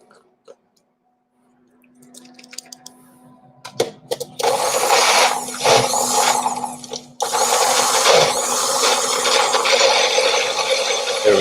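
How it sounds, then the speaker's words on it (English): A kitchen blender roars to life after a few clicks, blending lime for Tex-Mex loaded fries; the motor whirs loudly and steadily, briefly pausing once before revving again. "we'll see how it goes with the blender here"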